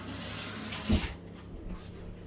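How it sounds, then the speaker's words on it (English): Tap water runs steadily in a kitchen while hands are rinsed, a soft close splashing with a brief louder gush, then a quieter trickle. "Give your hands a quick wash."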